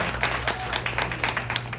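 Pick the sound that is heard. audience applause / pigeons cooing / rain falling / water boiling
audience applause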